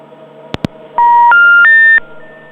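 A telephone call is dialed: two sharp clicks, then a quick rising run of bright dialing tones, followed by a faint lingering tone over a quiet hum.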